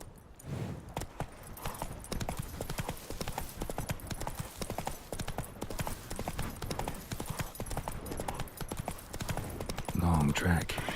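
Hooves of the horse Roach clip-clop steadily in The Witcher 3, a quick, even trot running the whole time at moderate loudness, with a louder thump near the end.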